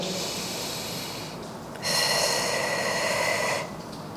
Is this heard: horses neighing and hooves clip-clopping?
no